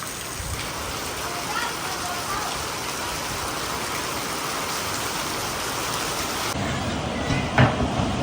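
Heavy rain pours steadily in a dense, loud hiss, with a brief knock near the end as the downpour continues.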